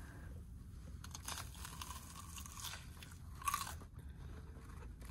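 Close, crisp crunching of someone biting and chewing a cheddar and sausage CrunCheese snack, several crackly bites in a quiet room.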